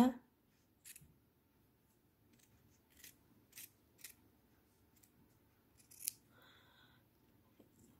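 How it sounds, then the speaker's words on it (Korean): Scissors snip through a cotton face mask in a handful of short, crisp cuts spaced a second or so apart, close by in an otherwise quiet room. "이 부분을 가위로 잘라 주도록 하겠습니다."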